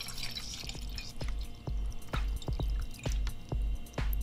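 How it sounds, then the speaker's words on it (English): Deionized water goes into 800 millilitre laboratory beakers as a series of distinct close drips and splashes at an irregular rhythm, with a faint steady hum underneath. "I filled two 800 milliliter beakers with the deionized water"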